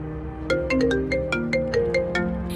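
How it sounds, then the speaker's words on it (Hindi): A mobile phone ringtone plays alone, a bright melodic electronic tune of repeated short notes sounding close and steady. "शॉन के मोबाइल की आवाज उधर से आ रही है"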